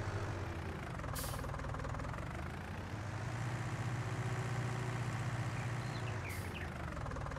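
A yard tractor engine in Farming Simulator 19 rumbles steadily at a low, throbbing idle for the whole stretch, with a couple of brief hissing bursts over the top.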